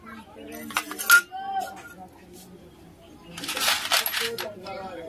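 A metal plate is set onto a motor engine's oil pump, giving a few bright metallic clinks and scraping rattles, close and clear, alongside someone speaking.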